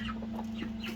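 A sick chicken with a wheezing illness clucking softly close by, brief low vocal sounds over a steady hum.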